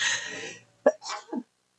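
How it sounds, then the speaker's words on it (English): One abrupt, close sneeze bursts out after a fading noise, followed by a short breathy exhale and murmur. "Oh, I'm going to sneeze."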